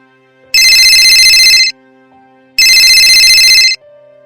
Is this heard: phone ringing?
yes